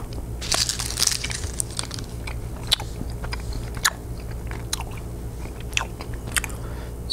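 Close, crisp crunching and biting of Sockerbit Swedish candy, chocolate and licorice pieces, with steady chewing punctuated by sharp individual crunches throughout, no talking.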